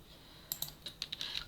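Keyboard shortcut keys are pressed in a short burst of about eight quiet, crisp clicks, close by and with no talk.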